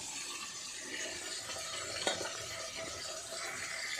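Fish frying in a pan for a spicy fish curry, a steady close sizzle with faint stirring and scraping of a utensil, one brief clatter midway, no voices.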